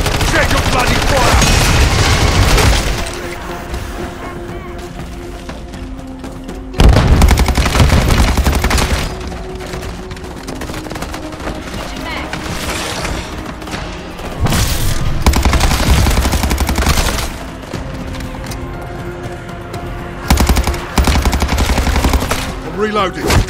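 Gunfire in the Call of Duty Modern Warfare 3 Zombies mode: loud, close automatic bursts come in several long volleys, separated by quieter stretches of background game noise.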